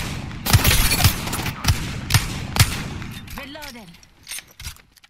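Rapid bursts of video game gunfire crack out in a fast, loud rhythm, then a short warbling electronic tone follows as the shooting stops, with players talking over it.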